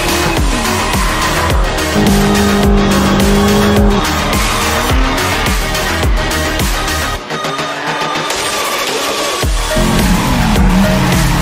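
Drift cars at a large drifting event in Spain scream through corners with continuous loud tire squeal over roaring engines, the sound sustained and layered for the whole stretch with only a brief dip.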